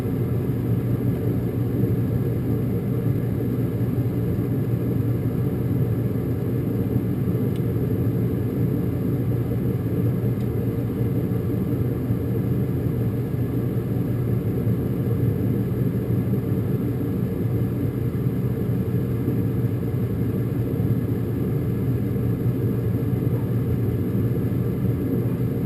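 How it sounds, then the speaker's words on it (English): A gas furnace inducer motor runs at a steady, continuous low hum and rumble, close and unchanging throughout, with no other sounds breaking through. "my inducer motor's on."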